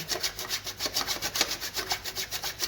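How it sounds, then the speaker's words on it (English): Dark chocolate grated into shavings over a banoffee pie, heard as a close, rhythmic scraping rasp with about a dozen quick even strokes and no talk. "And then just grate some shavings straight on like that."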